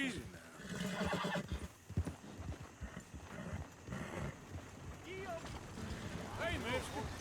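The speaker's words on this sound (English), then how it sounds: "That's a fine horse you got there." A horse in the Western video game Red Dead Redemption 2 whinnies with shrill, wavering neighs and clip-clops at close range, mixed with game ambience and voices talking.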